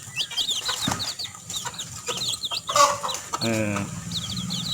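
Hens cluck in short bursts close by at a Kerala poultry coop, with bird chirps in the background and a brief voice.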